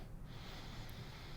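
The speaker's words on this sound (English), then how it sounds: "The cigar today, I have to sniff that again." A single quiet, close sniff of a Hoyo de Monterrey Epicure Deluxe cigar, a soft breathy draw of air through the nose lasting about a second.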